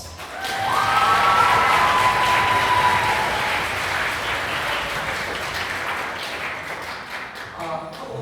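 A school auditorium audience at a symphonic band concert breaks into loud applause with a few cheers and whistles, a sustained roar of clapping that slowly tapers before a voice returns.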